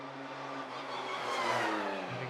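A GT race car at Portimao in the GT Open Cup Europe eases off toward pit lane speed, a steady mid-distance engine drone with a slowly shifting pitch.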